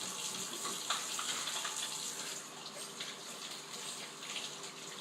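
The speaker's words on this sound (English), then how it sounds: "let me wash my hands first." Tap water runs steadily into a sink while hands are washed, a close, continuous hiss and splash with small irregular spatters and no talking.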